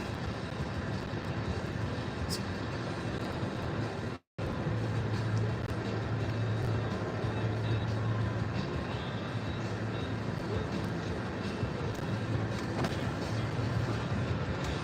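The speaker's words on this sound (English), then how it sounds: "we're stuck by the train" A train rumbles past nearby in a steady, continuous roar that holds for the whole stretch, cut by a brief dropout, with no talk over it.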